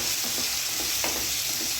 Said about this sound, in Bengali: করে একটু ভাজা ভাজা করে নিচ্ছি